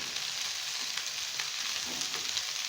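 Diced potatoes and carrots sizzle steadily in a hot pan, a dense, even frying hiss heard close up with faint scrapes of stirring and no talking.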